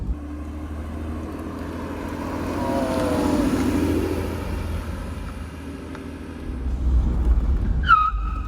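Honda NSX driving and braking with its ABS not working: a steady, close engine and road roar that swells with acceleration, with a brief tire squeal during braking.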